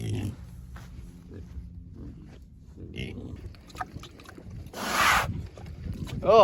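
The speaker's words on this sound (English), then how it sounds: "over here with the pigs" Pigs on a farm in spring grunt and snort at close range in short, scattered bursts, with a louder spraying, hissing noise midway and other farm sounds around them.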